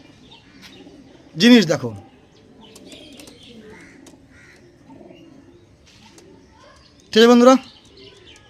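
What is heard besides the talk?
Punjabi pigeons cooing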